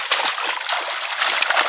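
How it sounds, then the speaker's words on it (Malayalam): Water splashes and sloshes loudly and continuously as a large net holding Nile tilapia is hauled up at a Kerala fish farm, close and full of spray, with no talk. "ക്യാമറയിലേക്ക് വെള്ളം തെറിക്കുന്നു കണ്ടോ"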